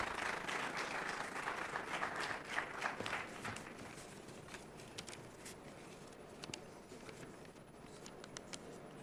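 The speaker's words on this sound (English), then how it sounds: "Big round of applause, please," Quiet, distant applause from a university audience honouring Professor Chattopadhyay at Sister Nivedita University, a steady patter of many hands that holds evenly throughout with no voices.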